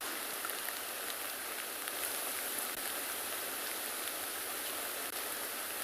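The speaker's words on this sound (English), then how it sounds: "the rain's too much. It is coming down quite heavy." Heavy rain pours down steadily, a dense, continuous hiss of drops drumming on surfaces with no pauses.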